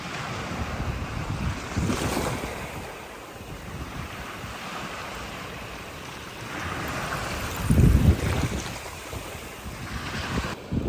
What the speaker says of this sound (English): Oh, I love the sound of that water.